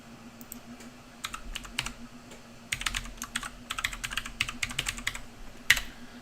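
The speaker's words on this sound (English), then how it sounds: "I will type it in chat for you." Keys clatter on a computer keyboard in quick, uneven bursts of typing, close and fairly soft, with short pauses between runs of keystrokes over a low steady hum.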